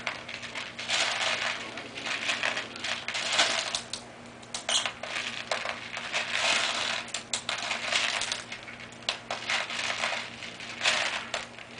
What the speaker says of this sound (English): That's a bin full of beads that she has just flung to the universe there.